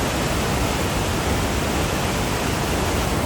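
Water rushes steadily out of Post Falls Dam in Post Falls, Idaho, on an icy day, a loud, unbroken broadband roar with no pauses, close and filling the whole scene.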